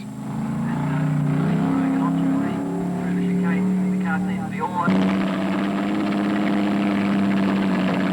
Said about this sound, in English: Graham Cromarty found his big GTHO quite a handful on the narrow Hillclimb course.